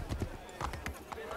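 Hooves clip-clop in quick uneven beats over a busy Assassin's Creed 3 game soundscape, with a horse whinnying and a voice talking over it.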